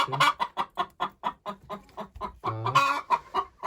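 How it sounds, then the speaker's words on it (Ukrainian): A hen clucks after laying an egg, a steady run of close, rhythmic clucks that swells into louder, drawn-out cackles near the end. "Курочка знеслася."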